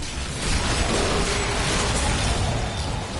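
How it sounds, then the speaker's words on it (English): A loud, dense burst of blasts and crackling debris fills the space as corpses explode in the video game Diablo 3, a continuous roaring wash of game effects with no pause. "that corpse explosion"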